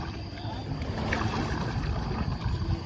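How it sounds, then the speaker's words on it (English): Kayak paddle slipping through the water during a poorly timed stroke, giving a continuous rushing, splashy wash with wind noise, fairly close and steady throughout. "the paddler is pulling before the paddle's buried, and you've got a big splash coming up behind"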